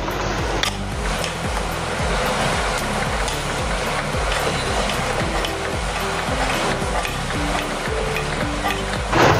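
Boiled vegetables are mashed for pav bhaji in a pan, a steady run of repeated thuds and scraping strokes with faint sizzling underneath, continuous and close.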